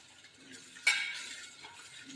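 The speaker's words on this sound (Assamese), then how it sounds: "এতিয়া পূৰা মিক্সিং কৰি থাকিব যেতিয়ালৈকে এনেকৈ লৰাই লৰাওক" Stirring a mixture containing acid violet dye in a bowl, soft scraping swirls with one sharp clink of the utensil against the bowl partway through, close and quiet.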